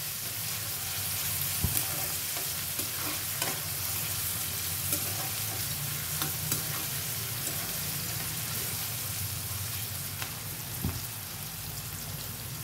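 Onions sizzle steadily in hot oil in a pan for a potato kurma curry, with a constant close frying hiss and occasional stirring clicks.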